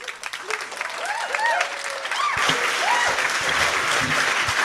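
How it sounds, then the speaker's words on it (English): Audience at a public planning commission meeting breaks into sustained applause and cheering, with whoops and shouts over steady clapping that swells louder partway through. "keep the cheering and shouting to a minimum"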